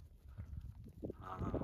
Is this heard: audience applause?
no